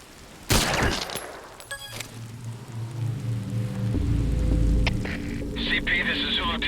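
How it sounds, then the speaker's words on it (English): Gunfire in the Metal Gear Solid V: Ground Zeroes video game, with a sharp shot near the start, some distant rattling bursts and rumbling ambience beneath, mixed with other game sounds. "Identify gunfire."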